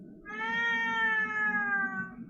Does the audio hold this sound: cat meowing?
yes